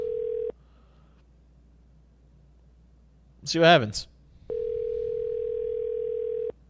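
A telephone dial tone runs steadily, cuts off, then returns for several seconds after a short burst of a voice speaking in between, the call being placed during a podcast.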